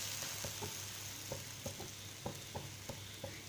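Wheat banana pancake sizzling in a pan on medium flame as it is flipped, a soft continuous frying hiss broken by several light taps and scrapes, quiet and with no voices.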